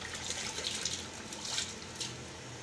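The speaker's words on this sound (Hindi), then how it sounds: "ये देखें छाने में हम चावल निकाल रहे हैं।" Twelve kilograms of soaked rice are lifted from a water tub with a strainer while cooking wedding-hall biryani, producing continuous splashing and pouring water with soft drips, close and steady.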